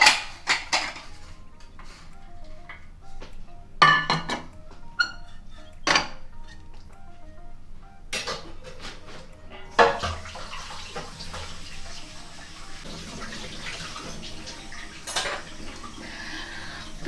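Dishes and pans clatter and clink in a kitchen sink while tap water runs, with sharp scattered knocks of metal and crockery over a steady trickle of water.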